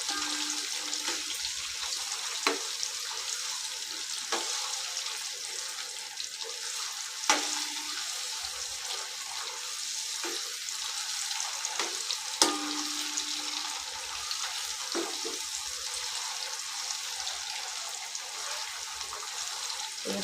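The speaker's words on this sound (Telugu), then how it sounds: "ఫ్రై కొంచెం ఫ్రై అయ్యేదాకా ఇలా కలుపుకుంటూనే ఉండాలి లేకపోతే మాడిపోతాం" A masala and egg curry base fries in a pan under continuous hissing sizzle, with intermittent scraping strokes and a few sharp clinks as it is stirred, close and steady throughout.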